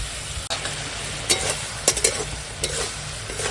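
A Bengali home kitchen pan of elephant foot yam sautéed with chili powder, green chili, turmeric and salt, stirred with scraping clatters and a steady low sizzle, spatula knocks punctuating the frying.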